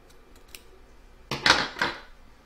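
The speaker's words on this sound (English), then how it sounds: "We're now going to trim up all the excess fabric from the front and the back." Scissors trimming excess fabric from machine-embroidered in-the-hoop work, a few faint snips followed by two or three louder crisp close-up cuts, with no talking.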